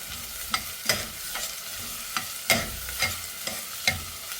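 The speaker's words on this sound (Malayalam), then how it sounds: "ഈ സവാള നല്ലോണം മുരിഞ്ഞ് വരണം." Sliced onions sautéing in a pan for mutton liver gravy, with a soft steady sizzle broken by several distinct scraping stirs of a spoon at irregular intervals, close and fairly quiet with no talking.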